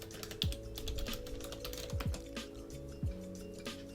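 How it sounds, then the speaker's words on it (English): Keys clatter on a computer keyboard as a search is typed, a quick run of close taps over a low steady hum, with no one talking. "you can easily go to Google search and just type in like"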